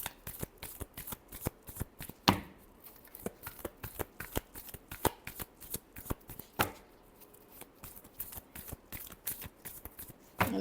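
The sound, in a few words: shuffling tarot cards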